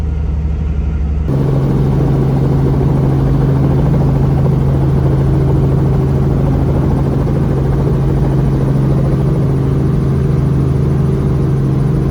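Helicopter taking off, its engine and rotor roaring close by, a steady loud droning hum that kicks in after a brief quieter start and holds throughout.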